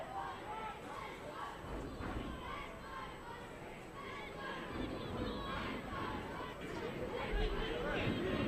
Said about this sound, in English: the fans are absolutely cheering their side on